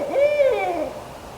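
Barred owl calling up close at Wasaga Beach, a single loud, drawn-out hoot that rises and then slides down before fading.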